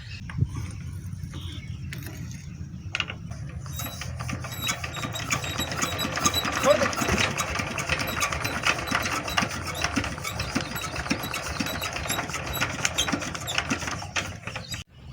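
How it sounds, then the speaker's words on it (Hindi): A Peter diesel engine runs steadily on a rice farm, a continuous mechanical chugging and rattling drone that builds slightly in loudness and holds, close by with no talk over it. "पीटर इंजन अब्दुल वहाब से स्टार्ट नहीं हो सका और मैं ही पीटर स्टार्ट करूंगा।"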